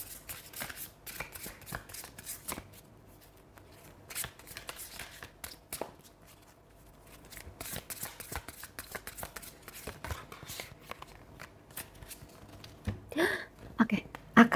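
Tarot cards being shuffled and drawn by hand, close papery riffles and soft slaps in uneven bursts with quiet pauses, growing busier toward the end.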